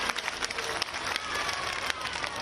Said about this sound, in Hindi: एक बार जोरदार ताली बजाइए इस बात के लिए।